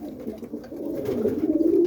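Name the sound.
roller pigeon cock bird calling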